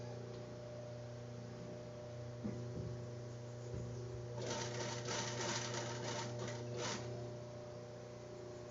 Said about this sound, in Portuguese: vou começar a costurar